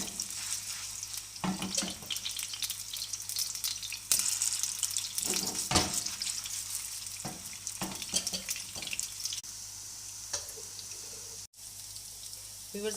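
Chicken reshmi kebabs fry in hot oil, giving a steady sizzle with bursts of crackle and utensil stirring, heard close up with no talking over it.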